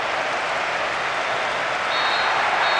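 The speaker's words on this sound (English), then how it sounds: "A huge roar from the crowd as the referee blows the final whistle." Huge stadium crowd at a 2006 World Cup round-of-16 match, Australia against Italy, roaring steadily as the referee blows the final whistle, a dense wall of cheering that swells slightly toward the end with a thin whistle-like tone on top.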